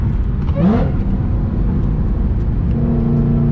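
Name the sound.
car engine revving on downshifts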